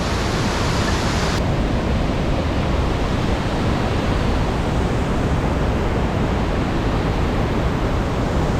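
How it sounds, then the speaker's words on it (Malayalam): Waterfall in Munnar pouring over rocks, a loud unbroken roaring rush of water that fills the whole scene, with no talk over it. "ആ പാറന്റെ മുകളിൽ നിന്ന് ഇങ്ങനെ വെള്ളം ഒലിച്ചിങ്ങനെ താഴേക്ക് പോയിക്കൊണ്ടിരിക്കോ"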